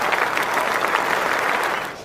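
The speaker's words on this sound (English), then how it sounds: "He's getting the applause." A cricket crowd at Lord's applauds Yuvraj Singh during a bicentenary match, producing dense, sustained clapping that fades slightly at the end.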